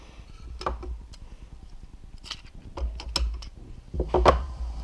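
A GoPro Hero 7 Silver camera is pulled out of its plastic mounting case, giving a series of close clicks, snaps and ratcheting rattles in short bursts.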